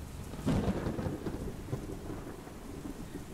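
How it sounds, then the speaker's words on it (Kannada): Rain falls steadily while a deep roll of thunder booms early on and slowly fades into the continuing downpour. "ಮಳೆ ಸುರಿಯುತ್ತಲೇ ಇತ್ತು"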